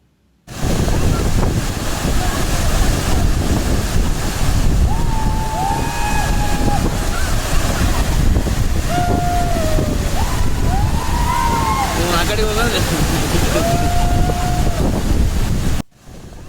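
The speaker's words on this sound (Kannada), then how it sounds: "ಇದೆ ಆ್ಯಕ್ಚುಲಿ ಹೆಬ್ಬೆ ಫಾಲ್ಸು." Hebbe Falls at Kemmangundi, a waterfall dropping about 168 metres, roars as a loud, constant wash of white noise close by, with people talking over it.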